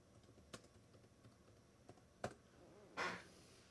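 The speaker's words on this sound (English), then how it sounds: "Let me just type in here." A few quiet, scattered keystrokes on a computer keyboard, soft isolated clicks in a hushed room followed by a brief louder clack near the end.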